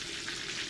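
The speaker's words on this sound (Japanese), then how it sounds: "これ180度の油で揚げてます" A thin-sliced pork cutlet for elderly diners fries in 180-degree oil with a steady, dense bubbling sizzle, close up and uninterrupted for a brief moment.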